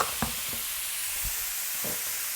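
Marinated lamb chops cook in a pan with a continuous soft frying hiss, broken by a few brief low pops and thumps near the start.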